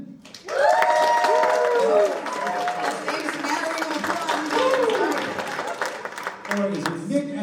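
Convention panel audience at a book-cover judging game, voting for a round winner with a loud burst of clapping and cheering that holds steady for several seconds, whoops rising above it, then fades slightly near the end.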